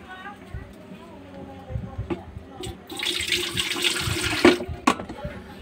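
Water from a tap pours into an electric kettle under repair, a splashing rush lasting a couple of seconds after clicks and handling noises, close by, with someone talking.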